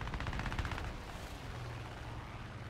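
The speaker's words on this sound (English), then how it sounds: "I only have 420 rounds of machine gun ammo left" An aircraft's machine guns fire in the War Thunder game, heard as a rapid, steady rattle of shots in a dense, fairly faint burst that fades after about a second, with no talk.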